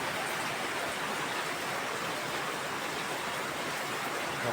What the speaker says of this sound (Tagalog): Ito pa oh, tumutulo yung sa may kusina.